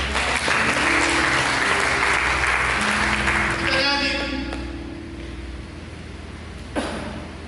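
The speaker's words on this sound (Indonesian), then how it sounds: "Berikan tepuk tangan bagi" A church congregation applauds during a sermon, loud sustained clapping with musical tones underneath that tapers off midway, followed by quieter room sound and a brief thump.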